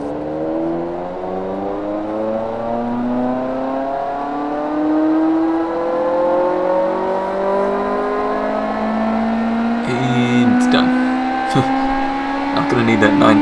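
A race car in the Automation car-building game revs its engine toward 9,000 RPM, the rising harmonics climbing steadily and loudly, with sharp gear-shift breaks near the end and a voice talking over it.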